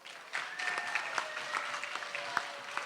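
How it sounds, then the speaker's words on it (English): Audience at a youth leadership conference seminar on student rights applauds in a steady, moderate patter, with a faint tonal line running beneath the claps. "give yourselves a round of applause"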